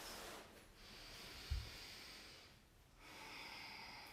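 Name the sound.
deep breath in through the nose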